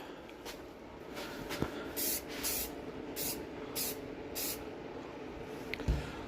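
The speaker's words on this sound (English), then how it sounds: "So do a couple of sprays and just, you know," Spray paint can misting paint onto a model truck kit: several short hissing bursts, each about a second long, close and fairly loud over low background noise.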